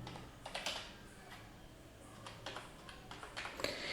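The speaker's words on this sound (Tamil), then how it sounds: "இப்படி நீங்கள் டைப் பண்ணிட்டீங்க." Quiet clicking keystrokes on a computer keyboard come in irregular bursts, close and faint, with no talk.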